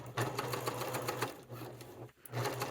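A sewing machine runs over a seam on a satchel, a quiet, steady rapid stitching rattle with a brief pause before it resumes.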